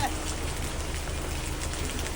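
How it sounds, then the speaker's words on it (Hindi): Heavy rain pours steadily outdoors, a dense continuous hiss that stays loud and even throughout, with no clear voices over it. "बारिश देखो भाई कितनी तेज बारिश है, बहुत तेज बारिश हो रही है"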